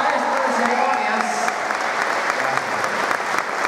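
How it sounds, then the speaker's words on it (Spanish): An audience gives a strong round of applause to a master of ceremonies in his final year, a loud, continuous roar of clapping hands with a faint voice briefly audible. "pido un fuerte aplauso"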